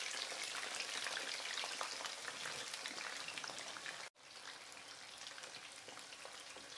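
A soft, continuous crackling sizzle of cassava frying in hot oil, steady throughout with a brief dropout near the end.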